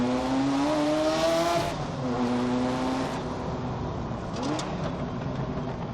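A powerful Porsche 959 engine revs hard and climbs through the gears on the Col de Turini mountain pass, loud and close, its pitch rising and falling with each shift.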